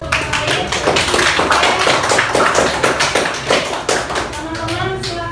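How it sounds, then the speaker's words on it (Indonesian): Pupils in a classroom clap for their classmates, with brisk, fairly close handclaps of uneven rhythm and children's voices and chatter mixed in, fading toward the end. "tepuk tangan untuk"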